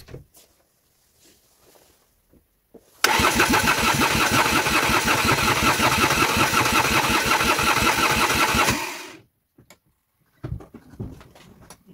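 Ligier Nova 500 diesel microcar engine cranking and catching, then a loud close rattling diesel idle for about six seconds before cutting off, with quiet surroundings and a few faint knocks before and after.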